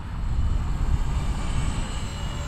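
Blade 230S V2 RC helicopter in flight, its steady motor and rotor drone holding at a constant, fairly near level throughout with no voices.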